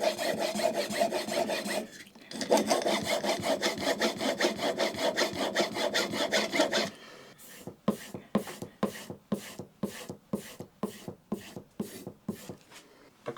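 A plane blade is honed on a finer sharpening stone, first a long continuous rasping scrape for several seconds, then a run of quick, evenly spaced back-and-forth strokes, close and fairly loud with no talking.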